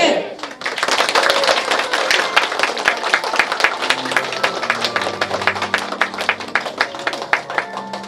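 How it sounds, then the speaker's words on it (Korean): A crowd claps heartily at a ribbon cutting during a social service institute's third-anniversary ceremony, dense applause rising at once and holding steady, with a faint low tone underneath toward the end. "커팅과 동시에 힘찬 축하의 박수 부탁드리겠습니다"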